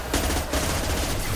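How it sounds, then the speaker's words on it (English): Weapons fire in the video game Mass Effect 2, with dense, continuous rapid gunfire that is loud and close throughout, with no talking. "is the general weapons fire when I'm not rambling, is it too loud?"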